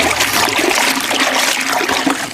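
Water poured in a steady, splashing stream over a silk saree during starching, loud and close, continuous for the whole stretch with no voices.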